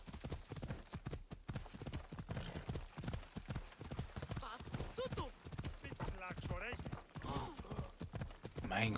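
Horse hooves clip-clop in a quick, steady rhythm as a rider gallops in the video game Assassin's Creed Odyssey, heard under continuous talking throughout.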